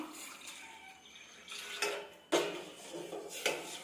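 A utensil stirs a watermelon jelly mixture in a pot, producing soft sloshing swirls and a few sharp clinks against the metal, quiet and irregular, with no talking.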